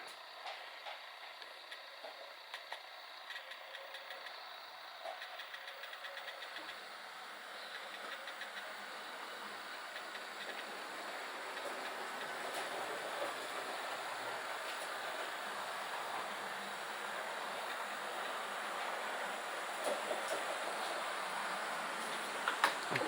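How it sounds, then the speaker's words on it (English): A steady, low-level mechanical hiss and rumble of model trains, including Athearn blue box engines, running on a layout, gradually growing slightly louder, with faint clicks and no voices. "I will show you guys a few trains running here."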